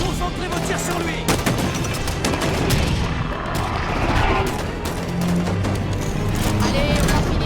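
Gunfire in the Halo 5: Guardians campaign, dense sustained bursts and booms filling the whole stretch, mixed with game sounds and a voice speaking over it.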